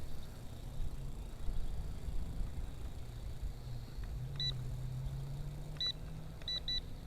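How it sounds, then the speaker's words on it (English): Several short electronic beeps from a JJRC H98 drone controller, some in quick pairs, signalling a rate change, sound over a steady low motor hum and background noise, with no talking. "Okay, 2 beeps. So now we should be in a faster rate."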